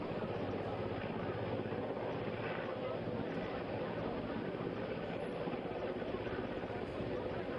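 A rescue helicopter hovers over the flooded Tawi river near an under-construction dam in Jammu. Its rotor and engine make a loud, steady drone that fills the whole stretch, with faint voices underneath.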